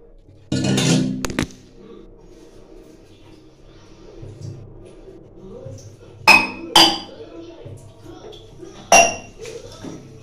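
Cups and spoons clink while coffee is made. Sharp metallic and ceramic pings and taps come in a few separate bursts, each followed by a short ring, over a quiet room with some handling noise.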